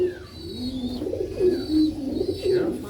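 Pigeons coo at a bird farm, several low rolling calls overlapping across a few seconds, close and clear, with a faint higher bird call in the background.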